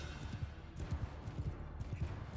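Horse hooves clop in the Bannerlord battle game, a fast, rhythmic patter of low, muffled beats that stays faint and distant throughout.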